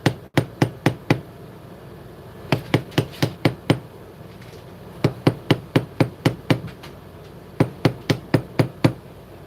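A bevel tool is struck repeatedly on craft material during a craft session, producing sharp, close, loud taps in quick bursts of four to six with short pauses between groups. No one speaks.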